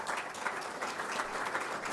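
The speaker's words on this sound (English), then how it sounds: "Stand up for a round of applause." A room of people at a university football press event claps briefly for the football staff, a soft, even patter of applause heard at some distance.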